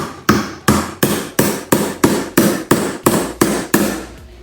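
A hammer strikes a metal minitruck skid plate to flatten it, ten loud, evenly spaced clanging blows each ringing briefly before the next, close up and with no talk.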